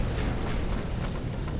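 A nuclear explosion in the video game Titanfall, heard as a continuous, loud, deep roaring rumble that fills the whole short stretch without a break.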